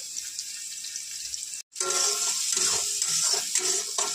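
Greens fry with garlic, salt and turmeric in a pan, a constant bright sizzle with stirring scrapes, cut by one brief total dropout before the sizzle resumes; no talk.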